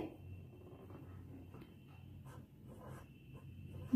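A pen or pencil writes a Hindi letter during a lesson, producing faint, soft scratching strokes in short repeated bursts over a low background hum, close by and quiet.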